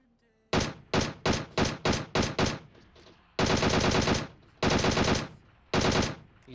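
Loud bursts of automatic gunfire in PUBG Mobile: a run of short rapid volleys, then longer sustained sprays with brief pauses between.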